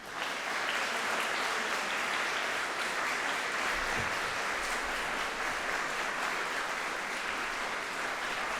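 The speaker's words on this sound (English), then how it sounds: "give a big round of applause in thanks to your families," Standing graduates at a university graduation ceremony applaud in thanks to their families, friends and teachers. The clapping is a loud, dense, sustained roar of many hands that holds steady throughout.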